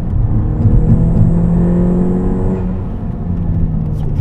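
A Volkswagen MK6 GTI with a big turbo and limited-slip differential accelerates hard from inside the car, a loud, steady engine drone with rising harmonic tones and a faint turbo whine above.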